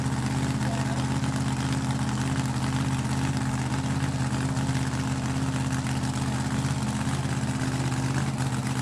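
A blown alcohol drag car engine idles at a dragway with a steady, deep rumble, holding at a constant loud level without any revving or pauses.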